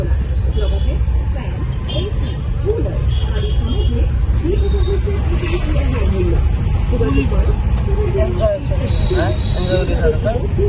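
A car driving along a road, a loud continuous low engine and road rumble throughout with occasional faint babble in the background.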